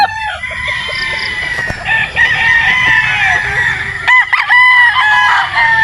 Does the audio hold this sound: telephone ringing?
no